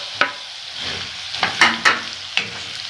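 Sliced onions sizzle and fry in a pot over cooked kidneys and spices, with a steady hiss broken by several sharp scraping clicks as a spoon stirs them, up close and without talk.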